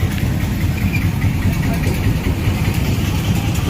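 Cars idle and turn near the entrance of a temple with a 92-foot Murugan statue in Malaysia. A steady, low engine rumble holds throughout against constant outdoor background noise.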